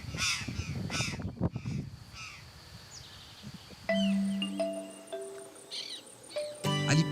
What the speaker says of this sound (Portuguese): encontramos um grupo de gralhas do campo